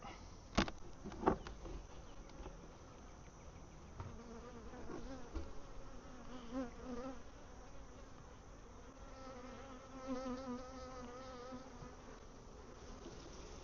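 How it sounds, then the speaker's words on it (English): Honey bees hum steadily from an open hive during an inspection, a close, dense, continuous buzz with a few sharp knocks of equipment near the start. "A lot of bees in here."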